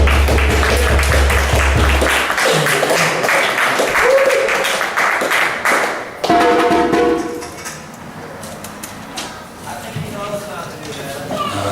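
Audience applause at a community arts showcase as a performer walks up to the stage, steady dense clapping that fills the room, thinning and softening toward the end with a few voices rising over it.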